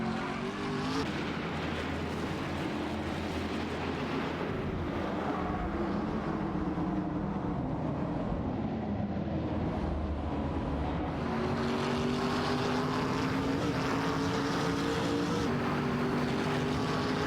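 Koenigsegg Agera RS and Lamborghini Aventador engines in a racing game, a continuous loud roar with rising and falling engine whine, with gear shifts near the start and midway.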